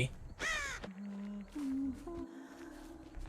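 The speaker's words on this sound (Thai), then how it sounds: "เมื่อกี้เห็นอีกาบินครับ" Crow caws from a crow taking flight in the Dead by Daylight video game, a burst of harsh calls near the start followed by lower game tones and ambient sounds.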